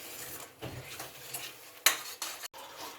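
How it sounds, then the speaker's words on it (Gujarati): Kashmiri red chili powder being stirred into paneer gravy in a pan, with a spoon scraping and clinking against the metal in soft irregular strokes, including one sharper clink, close and fairly quiet. "આ લાલ મરચું નાખી અને આપણે મિક્સ કરી દઈશું"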